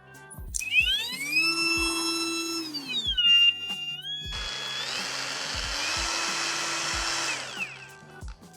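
A cheap GISAM cordless angle grinder on an original 5 Ah Makita battery spins up with a rising whine, runs briefly, spools down, then starts again and holds a high steady whir with a faint rattle, close and alone.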